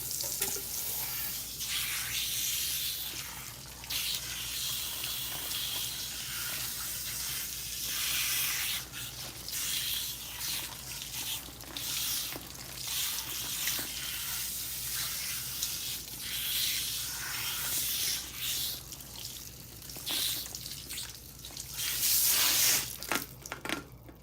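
Cool tap water runs and splashes while hair is rinsed, a steady hiss with irregular spattering bursts that grows louder near the end, with no talking.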